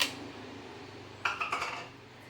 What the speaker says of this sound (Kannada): ಐಸ್ ಕ್ಯೂಬ್ನ ಹಾಕೊಳ್ತಾ ಇದ್ದೀನಿ.